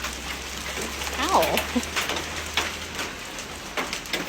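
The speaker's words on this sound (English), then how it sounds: "It's hailing." Hail falls outside in a steady, crackling patter, a continuous rattle heard from nearby, while a voice briefly exclaims partway through and a low hum runs underneath for the first half.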